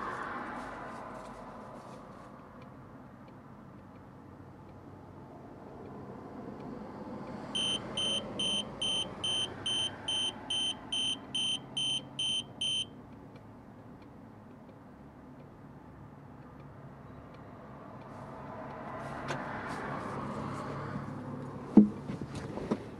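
Tire pressure monitoring system alarm set off by removing a tire valve cap: about a dozen evenly spaced, high, sharp beeps in a steady rhythm, clear over a low background hum.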